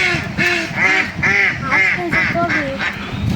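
Ducks quacking at a village pond, a rapid run of loud nasal quacks close by, several overlapping calls repeating for a few seconds.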